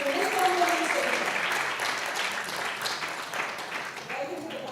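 An audience at a panel session on AI, policy and digital governance gives a speaker a warm round of applause, steady and fairly loud, fading slightly toward the end.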